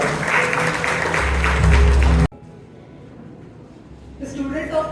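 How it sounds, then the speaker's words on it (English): Audience applause at a ceremony, loud clapping over a low hum for about two seconds before it cuts off abruptly, then quieter room noise with speech returning. "Give a big round of applause to CA Prarthana Kakurkar"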